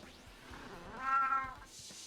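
A cat gives a single short, close meow in the middle of quiet background sounds from a murder-mystery game.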